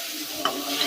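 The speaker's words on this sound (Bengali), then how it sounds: "আদা রসুন বাটা পেস্ট করা, তো দিয়ে দিলাম। মশলাটা কষানো হোক," A spice paste with ginger-garlic paste stir-frying in a pan for a village-style curry, a steady close sizzle with faint scraping of the stirring, no voices.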